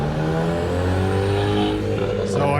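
A car rolls along a street in a Halloween-decorated neighborhood with a loud, steady engine hum and tire drone, passing close by throughout.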